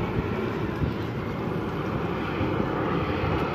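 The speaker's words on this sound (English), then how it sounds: "I believe another Southwest plane." A Southwest airliner passes overhead near Castle Island in Boston, a steady, moderately distant engine roar holding evenly throughout with no voices.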